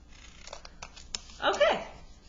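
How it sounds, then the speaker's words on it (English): Scissors snip through a thick stack of folded paper for a snowflake cut, a brief crisp crunching cut rising near the end after a few faint rustles and ticks, close and fairly quiet. "just cutting all around, just doing my best, using the back part of the scissors making sure I cut through all of the folded paper"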